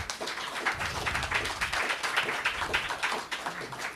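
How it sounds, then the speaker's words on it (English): An audience at a Sunday storytelling celebration in Ajijic gives a room-filling round of steady clapping, fairly close and continuous for several seconds. "So big round of applause for Margie Hyatt."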